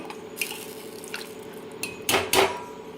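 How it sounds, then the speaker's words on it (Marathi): Hot water poured into a chicken curry in a pot lands as a short splashing gush near the end, after a few light metallic clinks of utensils; no one speaks. "थोडंसं गरम पाणी टाकते मी जरा"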